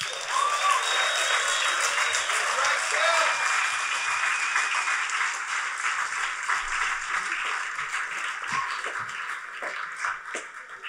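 Warm audience applause welcoming a guest singer at the Earthwork Harvest Gathering, a steady wash of many hands sustained throughout with faint voices mixed in.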